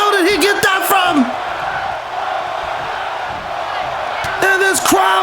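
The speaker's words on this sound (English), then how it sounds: "this crowd is screaming one more time" A large arena crowd roars at a WWE 2K23 wrestling match, a sustained wash of cheering and screaming that swells under a commentator's talk at the start and end.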